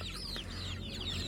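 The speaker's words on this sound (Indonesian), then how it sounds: "bisa dilihat juga ayam-ayamnya udah nggak sabar untuk memakan santapan pagi" Free-range village chickens cluck eagerly at morning feeding time, a few close, rising calls over a low steady background hum.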